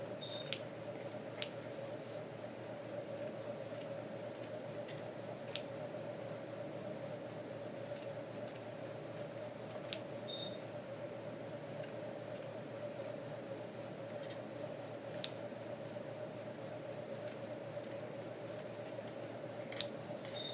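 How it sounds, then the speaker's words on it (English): Scissors snip through fabric to cut fringes, a series of faint, sharp, evenly spaced clicks repeating over a quiet, steady hum. "So I would take my scissors and do that all the way across."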